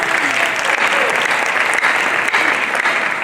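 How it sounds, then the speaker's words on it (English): Sustained applause from a conference audience at an investment and jobs event, a dense, steady clapping that fills the whole stretch at a loud, even level with no speech over it. "Can we give Priska Power Reserve a nice round of applause?"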